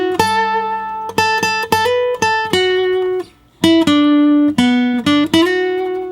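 Acoustic guitar solo licks from a song, a string of plucked single notes and hammer-ons forming four measures, played close and alone with a brief pause midway.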